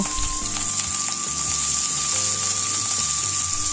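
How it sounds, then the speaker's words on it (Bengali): Potatoes and chopped onions with a green chilli frying in hot mustard oil, a steady close sizzle with faint hiss and a thin tone running through, no talking. "এবার আমি এটা হালকা করে ভেজে নেব"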